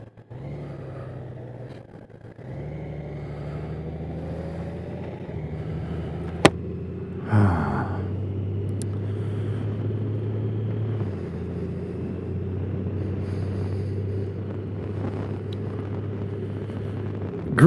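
A Kawasaki Z H2 SE motorcycle is ridden steadily, its engine droning close and loud with tone shifts as the rider changes speed and gear, and there is some wind rumble.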